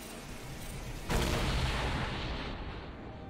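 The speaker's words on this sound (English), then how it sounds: "Blue team's turret has been destroyed." A turret crumbling apart in a League of Legends match: a sudden broadband crash about a second in, followed by a sustained rumbling roar that slowly fades, heard alone over faint game ambience.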